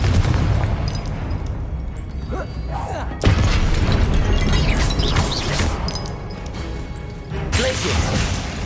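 Confringo blasting spell explosions in the video game Hogwarts Legacy, loud booming crashes in dense combat, with a sharp blast near three seconds and another near seven and a half, over constant battle noise.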